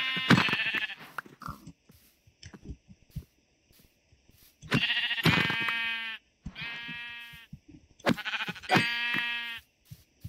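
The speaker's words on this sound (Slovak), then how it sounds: "Dobre, sú tu aj ovce, takže si môžeme urobiť posteľ." Sheep bleating in the video game Minecraft, several loud wavering baas in separate bursts with short quiet gaps between, close and clear, alongside faint game clicks and footsteps.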